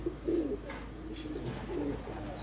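Red-eyed pigeons coo softly nearby in two short, faint, throaty phrases over a low background hum.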